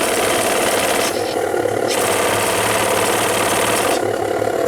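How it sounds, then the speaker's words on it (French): A live steam engine running in a radio-controlled model steam launch (Liva 2 New) produces a dense, continuous mechanical hiss and churn, loud and steady with slight shifts in tone. "Puis c'est un très très beau moteur."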